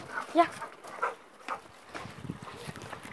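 A female dog gives a few short, faint barks and yelps indoors, sporadic and somewhat distant, mixed with quiet background voices.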